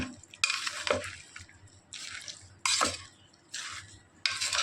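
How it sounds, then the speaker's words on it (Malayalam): Goat head curry being stirred in a pan, with spoon scrapes and wet sizzling bursts coming in spaced strokes, close and moderately loud. "ഇത് നന്നായിട്ട് നമുക്കിങ്ങനെ ഇളക്കി കൊടുക്കട്ടോ"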